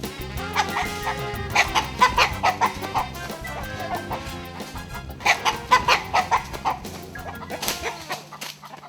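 Chickens clucking as they are put away at dusk on a rural Costa Rican homestead, repeated close clucks in clusters with a dog barking nearby.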